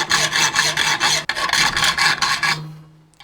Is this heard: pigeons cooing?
no